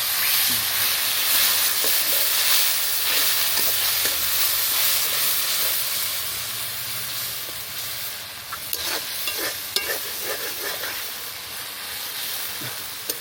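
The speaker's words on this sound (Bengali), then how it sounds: "এবার মশলাটা কষানোর জন্য আমরা অল্প পরিমাণ জল দিয়ে দেবো" Masala sizzles in a pan in a village kitchen while fish is cooked, and a splash of water is added, giving a loud steady hiss with stirring scrapes and sharper crackles later, with no talk.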